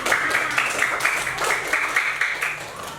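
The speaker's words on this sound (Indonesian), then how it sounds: "Tepuk tangan dulu untuk game yang sudah kalian lakukan." Schoolchildren in a classroom applaud together after a game, a dense, steady patter of many hands clapping at once, close and sustained for a few seconds with faint voices underneath.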